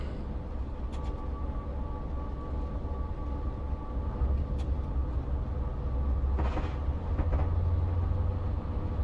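Class 70 diesel locomotive running on rails in Train Simulator Classic, between St. Denys and Bournemouth, a continuous low engine rumble with steady rolling noise and a few faint clanks and brief higher rattles.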